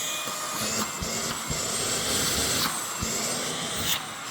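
An LG cordless stick vacuum cleaner runs on its lowest setting, a steady close motor whine with a high tonal hum and a few handling knocks, no talking.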